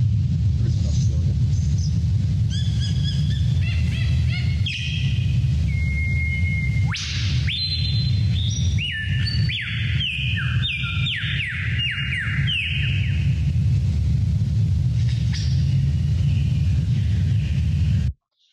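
A superb lyrebird sings a long, varied run of imitated mechanical sounds, repeated chirps, electronic-like tones and sweeping whistles, loud and close over a steady low background hum.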